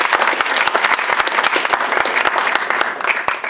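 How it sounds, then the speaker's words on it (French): Audience applauds to welcome a guest on Remembrance Day, a loud, even wash of many hands clapping nearby with distinct sharp claps standing out throughout. "Je vous demande de l'accueillir chaleureusement par des applaudissements s'il vous plaît."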